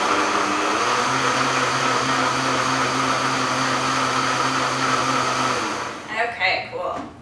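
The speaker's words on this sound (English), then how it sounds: "my blender is on, so I'm just going to start it" A home blender whirs steadily, blending watermelon and water for organic popsicles, with a loud, even motor drone that runs for about six seconds before cutting off into faint clatter.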